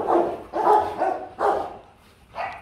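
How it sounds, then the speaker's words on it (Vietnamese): Rottweilers bark in a series of four deep, loud, close woofs with short pauses between them, the last one a little softer. "Tiếng chó sủa nó sẽ hơi ồn một chút."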